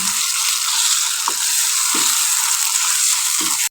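Green chili paste and spices frying in a pan for dal chicken, giving a loud continuous sizzle with a few soft stirring scrapes spaced through it.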